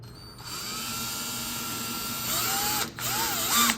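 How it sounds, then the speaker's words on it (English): A power drill drilling pilot holes for screws whirs steadily at close range, its pitch rising and dipping as it bites in, briefly stopping before spinning up again. "it is time to drill the pilot holes"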